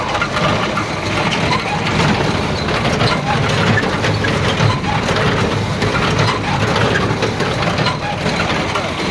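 A heavy mechanical press runs with a steady, loud grinding and rumbling churn for the whole stretch, with an engine-like drone beneath, and a voice is faintly heard at times.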